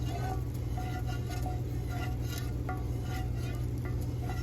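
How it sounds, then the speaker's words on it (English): Soy candle wax mixture being stirred, with quiet repeated scraping and clicking strokes against the container over a steady low hum, faint and close. "Now really mix it in, make sure it's good and mixed."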